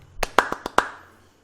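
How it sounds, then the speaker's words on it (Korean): Five separate sharp handclaps at an irregular rhythm in a quiet lecture room, crisp and close with short decays between them. "지금 이렇게 박수 금방 치셨죠?"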